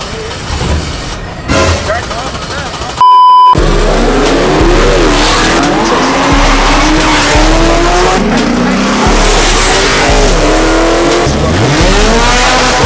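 Cars roar down a drag strip in Texas, with loud engines accelerating and revving in repeated bursts and tires squealing. The sound starts after a brief pause and stays loud and close throughout.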